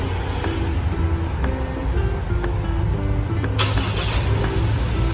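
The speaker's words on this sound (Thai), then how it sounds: "เครื่องยนต์ก็จะสตาร์ทติดนะครับ พร้อมเสียงสัญญาณตอบรับนะครับ" A Ford Ranger XLT pickup truck engine, started by remote, rumbles steadily at idle, with faint ticking and clicking on top and a brief rise in noise near the end.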